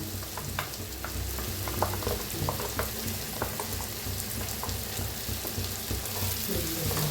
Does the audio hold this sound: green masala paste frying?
yes